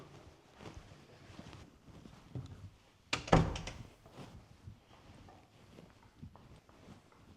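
A tiny door near a church thumps once with a sharp wooden knock, set against soft outdoor wind and faint rustling, with no talk.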